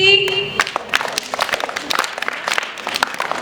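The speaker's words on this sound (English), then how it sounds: "Clap for Deepthi." Students at a school English poem recitation competition clap for a class 3 girl, a dense burst of many quick claps that stays lively throughout. Brief talk and a tone are heard at the very start.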